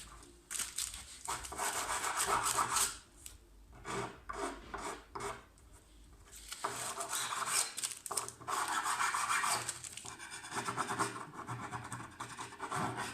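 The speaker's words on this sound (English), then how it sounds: "Scrape the excess off." Excess glue being scraped off a laminate kitchen worktop edging strip, a loud raspy scraping in repeated strokes with short pauses, close up and steady throughout.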